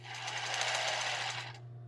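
A sewing machine stitches briefly at close range through tulle and lace for a bra, a fast buzzing run that stops abruptly, leaving a low hum.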